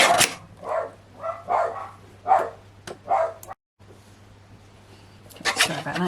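A dog barks several times in quick bursts in response to a knock at the door, fairly close, with a steady low hum underneath and a brief silent gap before more noise.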